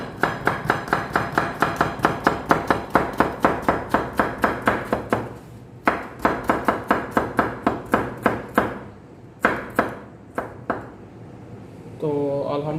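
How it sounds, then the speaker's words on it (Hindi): A knife chops watermelon rind into small pieces on a board, a fast steady run of crisp, close, sharp thwacks with short pauses, then a few scattered cuts near the end. "इसी तरह आपने जितने भी आपके पास छिलके होंगे आपने उनको छोटे छोटे पीस में काट देना है।"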